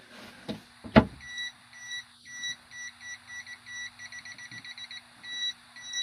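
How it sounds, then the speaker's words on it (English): A no-contact voltage tester held against a live extension cord gives a steady run of short, evenly spaced beeps, close and fairly quiet, after a couple of sharp handling clicks. "Now I can power this up and use my multimeter with a no contact voltage test,"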